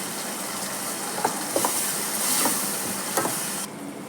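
Ground tomatoes sautéing in hot oil with turmeric for a fish curry give a steady close sizzle and hiss, with a few soft stirring clinks, fading sharply near the end.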